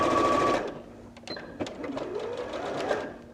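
Sewing machine stitching fabric for a beanbag tray, a loud rapid mechanical whir at first, then quieter handling clicks and softer machine noise close by.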